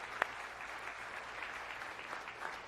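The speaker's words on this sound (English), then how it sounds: "I want to give another round of applause one more time to all the grandmothers and great-grandmothers" Audience applause at a church talk honoring grandmothers and great-grandmothers, a steady wash of clapping from a room full of people, moderately distant and even throughout with one sharper clap near the start.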